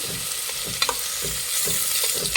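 Onions and green chillies fry in a pan, a steady sizzle broken by repeated scraping strokes of a spoon stirring them, close and fairly loud with no talking.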